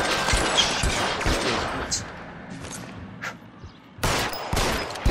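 Pistol gunfire in the video game L.A. Noire: a rapid cluster of sharp shots and crackling reports, then scattered single bangs and a final burst, loud and close with faint game voices underneath.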